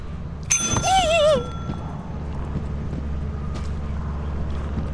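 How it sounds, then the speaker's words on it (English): A bright bell rings once in the video game Lethal Company, its wavering tone sustaining briefly over low background rumble before fading into steady ambient noise. "Alright, Bug, go ring again."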